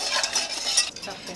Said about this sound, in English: I'm gonna put the sugar in the pan, then the cornstarch, and then I'm just gonna whisk this together.